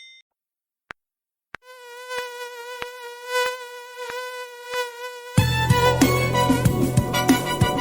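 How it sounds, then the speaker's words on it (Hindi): A mosquito's buzz: a steady, thin, high whine with regular ticking clicks. It plays alone at first, then busy music comes in and covers it. "भिन भिन करता आए मच्छर"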